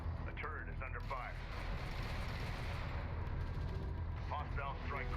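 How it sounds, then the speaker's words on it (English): Turret gunfire during a Homeworld: Deserts of Kharak skirmish: dense, continuous rattling battle noise with rumbling blasts, while game radio voices talk over it. "The turret is under fire."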